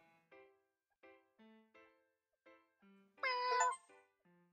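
Cats meow in the Cats Hidden in Paris video game, a series of short, clean tonal meows followed by one longer, louder drawn-out meow, with near silence between calls.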